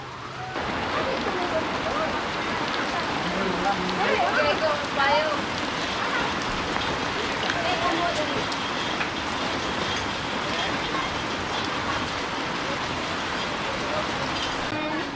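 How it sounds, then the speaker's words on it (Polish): Steady, dense rain pours down heavily and continuously over a plot in the Philippines, a broad hiss filling the whole stretch with a faint voice murmuring underneath. "I ten deszcz już jest naprawdę na tyle, na tyle silny"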